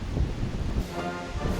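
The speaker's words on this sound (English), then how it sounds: "Sorry about the wind, it's a very windy day," Wind buffets the microphone outdoors at a memorial at Grant County Airport in loud, low rumbling gusts for a couple of seconds, with no other sound standing out.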